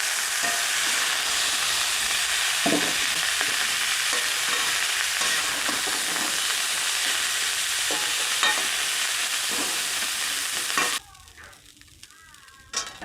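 Fried cauliflower lifted out of a pan of hot oil, a steady sizzle with occasional scraping clicks that suddenly drops to near quiet, followed by a faint clatter.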